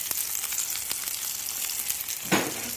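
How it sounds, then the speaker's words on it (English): Tuna steak sears in a skillet heated to about 500 degrees, giving a loud continuous sizzle with scattered crackling pops and one sharper burst of spitting near the end. "we're sitting about 1 minute and 30 seconds, searing on the second side"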